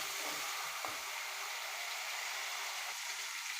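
Onion paste with ginger-garlic paste frying in oil, a soft, even hiss of gentle sizzling with a couple of faint clicks, fairly quiet and without any voices.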